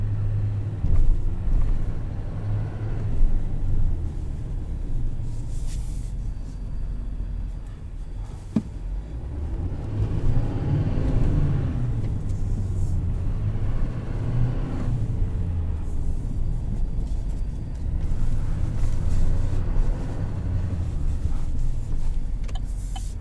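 A 2021 Chevrolet Silverado 2500 LT pickup with a Duramax diesel drives along with a steady low engine rumble and road noise, and a brief thump marks the truck rolling over a speed bump.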